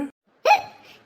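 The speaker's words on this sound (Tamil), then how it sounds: "என்ன விக்கல் நிக்காம வருது" A single loud, close hiccup jolts out after a brief trailing vocal sound, then tails off into silence.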